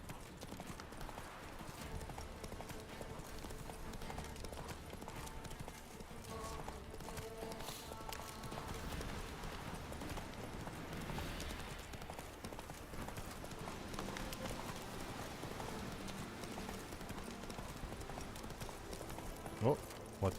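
Galloping hooves clip-clop rapidly and continuously in The Witcher 3 as a horse runs along a road, a man urging it on over the steady pounding.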